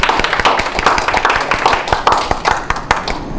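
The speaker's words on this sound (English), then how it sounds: "Everyone, a round of applause for Eileen." A meeting audience at a Toastmasters club applauds, dense close clapping with sharp individual hand claps throughout, loud and steady.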